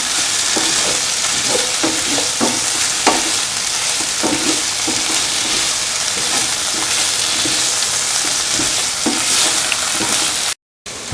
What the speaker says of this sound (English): Mix the cottage cheese pieces with the rest of the mixture.